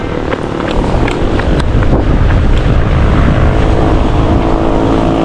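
Yamaha Aerox motor scooter riding along, a steady loud engine drone mixed with heavy wind buffeting for several seconds, no talking.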